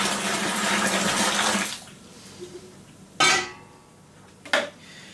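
Boiling water is poured into home-brewing equipment, a close, splashing rush for about two seconds, followed by quiet and a couple of sharp clunks from the vessel being handled.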